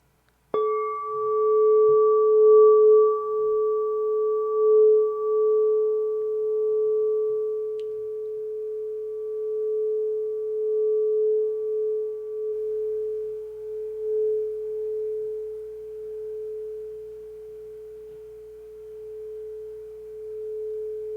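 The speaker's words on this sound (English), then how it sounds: "Let's put this into application with one of my handheld crystal balls" Handheld crystal singing ball struck once, then ringing with a pure, sustained tone that slowly swells and fades in gentle pulses, clear and alone for about twenty seconds.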